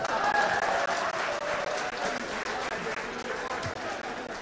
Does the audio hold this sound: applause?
yes